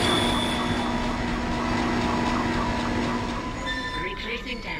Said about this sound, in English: Replacing damaged tram car.